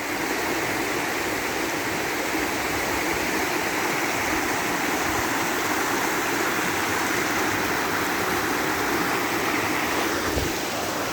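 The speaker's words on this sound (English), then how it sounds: "the current's definitely louder here, so I have to speak up a little more." Flooded river current rushing past, a loud continuous broadband roar of churning water heard close by, steady throughout with no speech.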